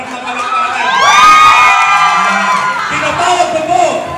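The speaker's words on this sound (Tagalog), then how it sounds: "gusto ko pag pinakilala ko, may sigawan, saka palakpakan ng matindi" Loud crowd at a Filipino meet and greet event erupting into shouting, whoops and cheers, swelling to a peak and then holding as a sustained roar with scattered high-pitched voices.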